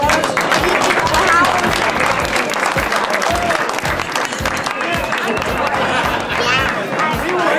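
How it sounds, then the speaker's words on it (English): An audience at a pinewood derby breaks into loud, steady applause for the winning boys, many hands clapping together in a dense sustained burst with chatter underneath. "Let's give these boys a big round of applause."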